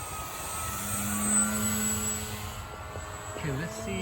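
RC model airplane fitted with skis flying in a snowy outdoor setting, with a steady buzzing electric motor drone and whine throughout, rising and falling slightly as it passes, under continuous background noise and occasional talk.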